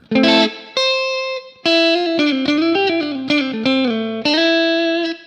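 Electric guitar chords and single notes through a NUX MG-30 ring out clean with a splashy spring reverb tail, several strums in a loose rhythm with no voice.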